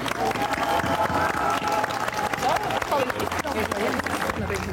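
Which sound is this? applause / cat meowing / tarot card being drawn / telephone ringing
applause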